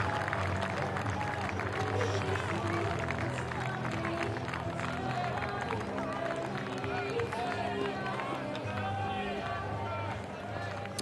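A cricket crowd at a New Zealand versus England Test applauds bowler Tim Southee, with steady sustained clapping and crowd noise heard throughout under a commentator's talking.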